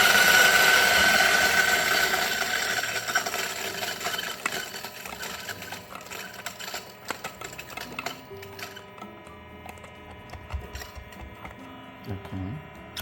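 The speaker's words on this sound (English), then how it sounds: "So I'll put the beans now and turn it on." A Starseeker AK74 coffee grinder running at 1000 RPM on grind setting 5, a loud whirring motor hum that starts strong and fades as the beans break down, with scattered rattling and clicks and a voice near the end.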